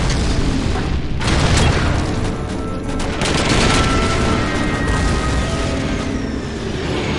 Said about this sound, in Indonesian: Banyak bom jatuh ya.